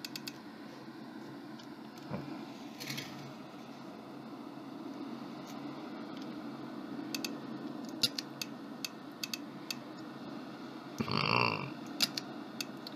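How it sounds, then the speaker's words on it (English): A man out on a deer hunt in Festus, Missouri lets out a loud, brief burp near the end, standing out over faint outdoor background noise and scattered small ticks. "I don't know why I always burp in my videos."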